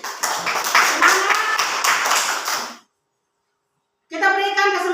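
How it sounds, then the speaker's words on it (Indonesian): A small group in a classroom-style discussion session claps together for two groups, a dense burst of hands lasting under three seconds, then a sudden silence before a voice comes in. "Mari kita berikan tepuk tangan dulu untuk dua kelompok ini"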